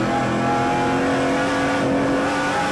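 Stock race cars battle side by side at the Oktoberfest 200, engines roaring loud and close in a steady, dense blur of motor noise with no break across the stretch.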